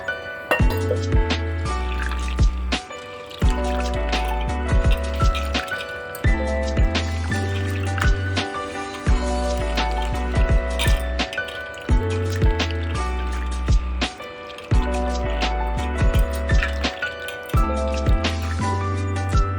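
Chana dal is washed by hand in water, giving repeated wet squishing, swishing and dripping sounds in rhythmic bursts with short pauses, close and fairly loud, with no talking.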